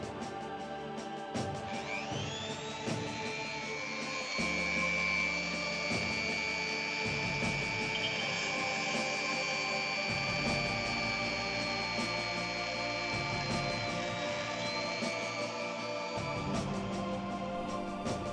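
A Dremel rotary tool drills into a small metal miniature, a steady high motor whine running for most of the stretch, with scraping, bumps and handling noises underneath.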